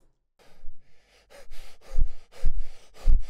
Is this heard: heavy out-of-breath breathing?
yes